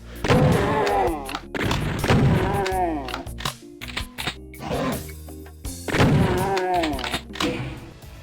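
Super Shotgun blasts in Doom II, with three heavy booming shots spread across the stretch, each followed by a mechanical reload clack, loud and close with no talking.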